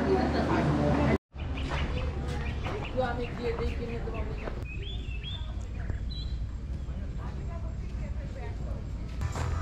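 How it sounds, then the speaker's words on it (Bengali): Several birds call around a farm garden with mango, jackfruit and lychee trees in Miami, Florida, short chirps and whistles scattered over steady outdoor background noise, with people talking throughout. "চারিদিক থেকে পাখির ডাক শুনতে পাচ্ছি"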